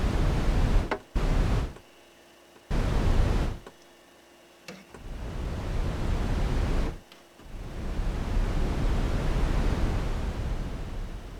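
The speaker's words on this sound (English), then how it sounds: "So we can do fun wind sounds with this" Bursts of noise from an ARP 2600 synthesizer's noise generator swell and cut off abruptly, then settle into a sustained hiss with a gap, resembling gusting wind; no voices.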